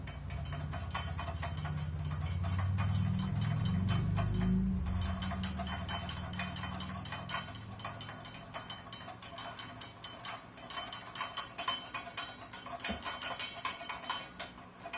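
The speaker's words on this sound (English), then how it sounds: "we're going to slowly whisk in the oil" Oil is whisked into a vinegar dressing in a bowl. A wire whisk clinks and ticks against the sides in a fast, steady rhythm, with a low rumble early on, close and fairly loud throughout.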